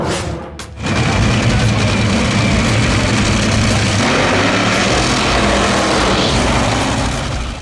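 An NHRA drag racing car's engine roars at full power, a loud, dense, continuous blast that swells in quickly and holds for several seconds without talk.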